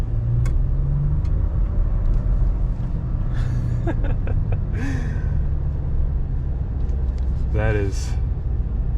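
A 2021 Ford F-150 XLT Sport with the 2.7 engine accelerates, its low cabin rumble steady and strong throughout while someone talks and reacts over it.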